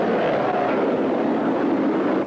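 Steady, loud rotor-like roar of a rescue helicopter, continuous throughout with no pauses, like a helicopter hovering close by during a 1986 building fire rescue.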